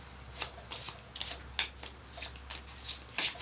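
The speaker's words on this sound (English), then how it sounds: "Now what we're going to do is shuffle these cards" A deck of board game cards for Castilion being shuffled, a string of crisp riffling bursts repeating at an irregular rhythm, close and clear against quiet room tone with no talking.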